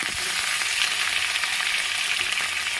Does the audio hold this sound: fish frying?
yes